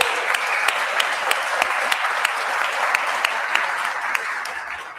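A conference audience at the Intact Global 2026 gathering gives the leadoff speaker a big round of applause: dense, sustained clapping from many hands, steady and close throughout, with a few sharper individual claps standing out.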